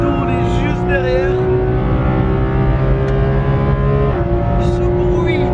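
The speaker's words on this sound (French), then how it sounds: "Alors tu peux quand même entendre le moteur énormément" Porsche 911 GT3 RS flat-six engine holding a loud, steady high-rpm howl near 9000 rpm, continuous and close with strong sustained harmonics, while a voice talks over it.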